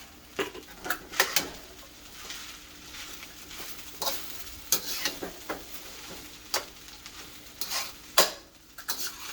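Rice stir-fried in a Joyce Chen wok with beef gives soft background sizzling broken by repeated sharp scrapes and clacks of a utensil against the pan in an irregular rhythm.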